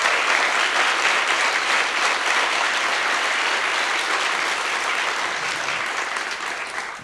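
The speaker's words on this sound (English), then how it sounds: "So please, a round of applause for young Jean Lee." A theater audience at a talk show event gives sustained, dense applause, loud and even throughout before tapering slightly near the end, with no speech over it.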